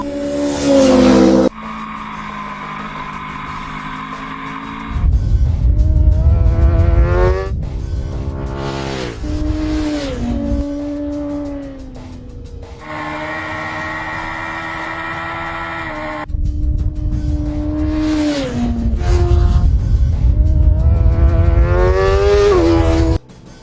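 Superbikes from Aprilia, BMW, Ducati and MV Agusta race on a track, with loud high-revving engines rising and falling through gear changes, several bursts of hard acceleration and passes, close and dominant with no talk.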